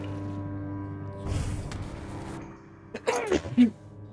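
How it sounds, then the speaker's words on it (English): A single sneeze bursts out near the end after some rustling and a sharp intake of breath, close and fairly quiet. "I keep sneezing."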